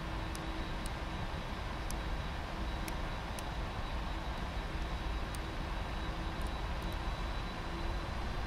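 A Boeing 747-400 lining up on the runway at Frankfurt in the Prepar3D flight simulator, its engines giving a steady, loud broadband roar with a faint whine and occasional light clicks, no talk.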